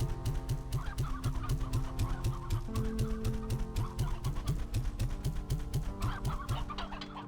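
Hens in the video game Slime Rancher 2 cluck in a quick, steady rhythm, with a short repeated cluck pattern over a layer of soft game music.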